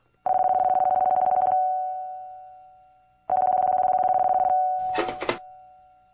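A telephone rings in a Korean radio drama retelling the Three Kingdoms story. Two long, loud electronic ring bursts come with a pause between them, followed by a short clatter as the call is picked up.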